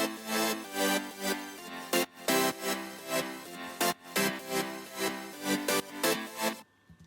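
Future house chords built from five layered sounds in Logic Pro X play as bright, rhythmic stabs in pulsing groups, moderately loud, with short gaps before a sudden stop near the end.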